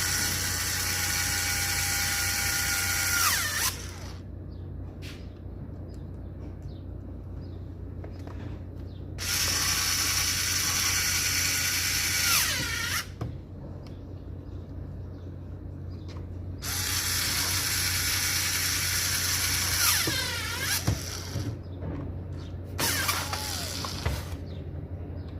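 A Makita HR4003C rotary hammer runs in loud bursts, switching between hammering and drilling, each lasting several seconds with a harsh, buzzing mechanical clatter and brief quieter gaps between runs.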